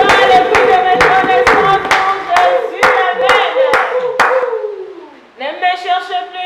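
Church congregation clapping together in steady rhythmic beats during a worship song, loud and close, with singing voices carrying over the claps before the clapping stops and the singing continues alone.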